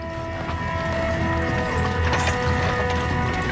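Horse hooves clip-clop at a walking pace under a layered background of tones and mechanical clatter, a steady moderate rhythm heard with no talk.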